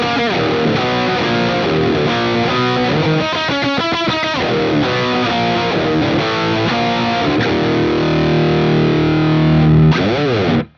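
An electric guitar with a distorted tone, sent through a Phenyx Pro PTG-11 wireless system, plays loud, dense riffs with quick fast runs in the middle and a long ringing chord before cutting off at the end.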